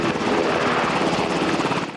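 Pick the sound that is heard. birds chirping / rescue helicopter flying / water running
rescue helicopter flying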